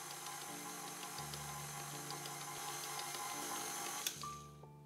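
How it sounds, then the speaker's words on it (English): A stand mixer kneading bread dough for sausage rolls at minimum speed, giving a steady mechanical whirr with a faint rhythmic clunk, close and continuous, with no voices. "Mix at minimum speed until all the ingredients are combined."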